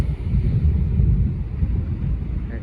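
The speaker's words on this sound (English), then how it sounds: "But the wind is absolutely howling." Wind howls and buffets loudly at a river mouth by the sea at St Lucia, a continuous low roaring rush with no voices.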